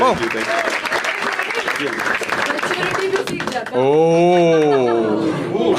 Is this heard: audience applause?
yes